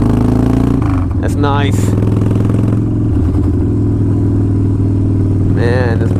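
A 2005 Harley-Davidson Wide Glide motorcycle drones steadily and loudly up close while riding, its engine rumbling throughout as someone speaks briefly over it.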